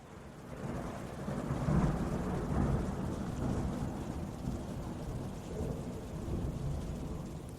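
A thunderstorm with steady rain, low rumbling thunder rolling continuously beneath the hiss of falling rain, moderately loud and with no voices.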